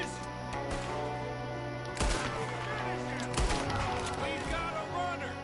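Gunfire cracks during a Red Dead Redemption 2 shootout: a few sharp, loud shots stand out at irregular intervals over a busy bed of game sound and voices.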